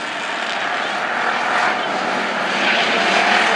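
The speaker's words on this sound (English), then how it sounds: "Heat race for the 13X and the Outlaw Mini and Shane Tiffany." Continuous broadband roar of pure stock race car engines on a dirt oval during a heat race, steady and loud as the pack passes, with no gaps or separate passes distinguishable.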